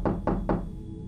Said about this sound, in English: suddenly another forceful knock came upon the window